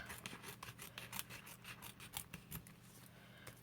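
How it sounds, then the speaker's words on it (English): Blunt scissors cut through paper or craft material while making mixed media beads, a quiet run of repeated rasping snips and rubbing strokes close to the mic, with no talking. "tricky to cut, and my scissors are as blunt as anything"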